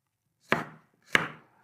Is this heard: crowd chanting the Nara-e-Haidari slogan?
no